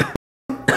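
A person with a cough and sore throat coughs twice, harsh and close, with a short silent gap between the two bursts.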